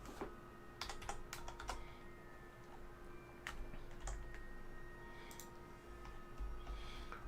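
Continuous typing on a computer keyboard at a steady, rapid pace, the key clicks close and fairly quiet over faint background hum, with brief pauses between bursts.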